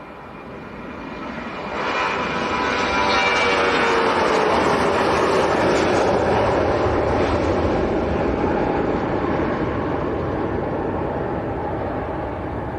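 A Ryanair airliner bound for Riga at Leeds Bradford Airport roars past, its jet engine noise swelling from a distant rumble to a loud, sustained broadband roar that slowly fades away.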